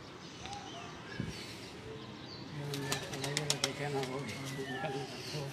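Pigeons coo in low repeated notes amid rustling and a brief flutter of wings, with faint background chatter.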